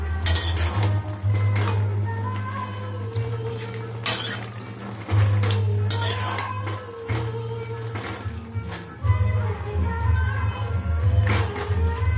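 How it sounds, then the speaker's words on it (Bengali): A spoon stirs food in a metal pan, producing repeated clinks and scrapes at irregular intervals over a steady low hum. "এবার এটাকে আমি নাড়বো যতক্ষণ মিস না হয়ে যায়"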